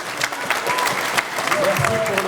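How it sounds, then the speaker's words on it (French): Audience clapping hard after a choir and theatre performance, a dense, loud, steady wash of applause filling the whole stretch, with faint cheers and a short whistle-like tone riding on top. "Je crois qu'on peut les applaudir très très fort"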